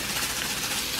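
Korean fried rice sizzling in a hot pan, a steady, broad hiss that stays even and continuous for the whole second with no pauses.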